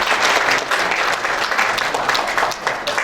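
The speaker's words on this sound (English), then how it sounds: "Please give her a big round of applause." A conference audience at the World Journalists Conference 2024 gives loud, sustained applause to a journalist speaker, a thick wash of many hands clapping evenly throughout.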